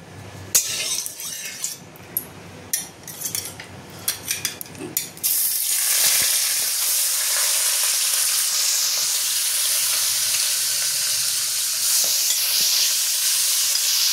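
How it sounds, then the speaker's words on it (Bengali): Rohu fish heads drop into hot oil after a few light clinks and stirring knocks, and the pan bursts into a loud, steady sizzle and spatter that continues for the rest of the stretch without talk. "মাথাটা আমি ভেজে নেবো, লাল লাল করে ভেজে নেবো মাথাটা।"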